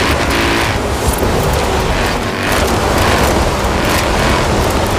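Mini X-Raid Countryman Dakar rally car in Forza Horizon 4, its engine a loud, steady, rough roar with dense rumble throughout.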